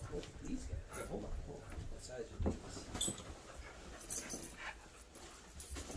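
A dog at an old farmhouse whimpers and pants with a few soft yips, faint and intermittent beneath people talking nearby.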